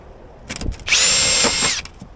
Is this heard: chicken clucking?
no